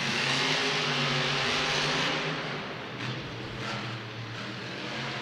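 Monster trucks race indoors at Ford Field in Detroit, their engines roaring loud and steady with droning revs that dip and rise again under a constant wall of noise.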